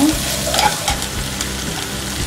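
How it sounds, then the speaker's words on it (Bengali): Chopped green chilli frying with garlic and ginger paste in a hot pan, heard as a loud close sizzle with continuous stirring scrapes throughout. "কাঁচামরিচ কুচি দিয়ে দিব রসুনের পেস্ট আদা পেস্ট দিয়ে দিব দিয়ে এগুলোকে একটু ভেজে নিব"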